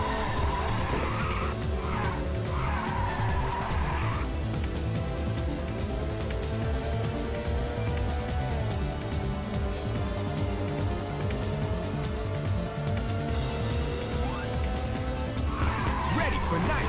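Race car driving in a PSP racing video game, with a steady engine drone and several squealing tire skids near the start and end, while someone talks over it.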